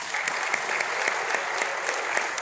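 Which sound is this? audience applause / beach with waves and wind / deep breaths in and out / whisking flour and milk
audience applause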